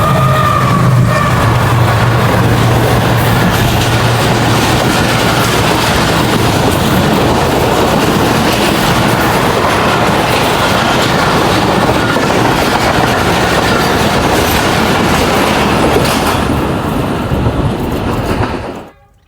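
Karakoram Express 42 Down roars straight through Jungshahi station, a loud continuous rush of wheels and wagons with a horn at the start, fading abruptly at the end.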